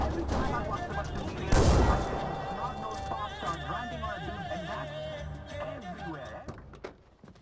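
A double-round shotgun in a video game, a sidearm that can be fired from behind the wheel, lets off a single loud, booming blast early on, then quieter in-game background sounds carry on.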